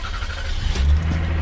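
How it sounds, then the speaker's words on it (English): A car engine turns over and catches, settling into a steady low idle rumble that grows slightly louder over a brief moment, with no talking. "let me just turn the car on."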